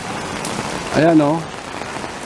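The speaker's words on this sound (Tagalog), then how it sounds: "Biglang umulang ng malakas." Sudden heavy rain, a steady hiss of falling water throughout, with a short spoken phrase rising over it in the middle.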